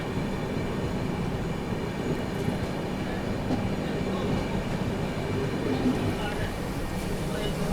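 A passenger train pulls out of Jamwanthali railway station, a steady rolling rumble with faint wheel clatter heard from aboard, while a voice talks over it.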